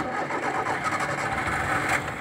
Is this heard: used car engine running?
yes